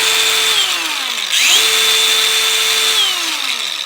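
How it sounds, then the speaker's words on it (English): A Dewalt cordless angle grinder fitted with a slitting disc whines loudly and close, spinning steadily with a pitch that dips briefly and climbs back before settling into a high constant tone. "let's talk about this upper angle grinder. This is the one I mainly use now, for the simple reason is it's a Dewalt cordless one."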